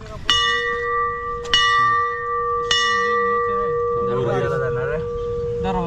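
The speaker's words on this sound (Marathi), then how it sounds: "या ठिकाणी घंटा आहे" A temple bell at Bhorgiri fort near Bhimashankar is struck three times, each ring hanging on with a long, clear tone; a voice speaks afterward as the ringing fades.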